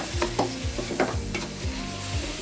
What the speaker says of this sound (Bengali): চালটা 5 থেকে 7 মিনিটের জন্য একটু ভাজবো।